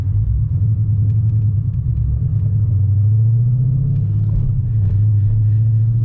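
Car engine idling and rumbling at a steady low pitch with slight swells in revs, close and continuous, with no talking.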